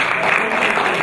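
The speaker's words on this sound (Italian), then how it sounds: "applauso." Brief, steady applause from a crowd at a motorcycle club's 50th anniversary celebration, a continuous wash of clapping at close range.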